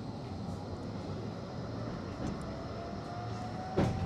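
A tram runs from Fleetwood to Starr Gate with a steady interior rumble and faint whine of motors, and a louder rattle near the end.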